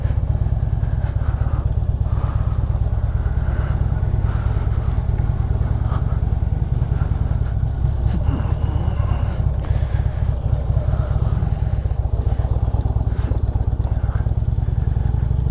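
Harley-Davidson Road Glide engine idling, a loud, steady low rumble with a fast even pulse and faint clatter over it throughout, close by and without talk.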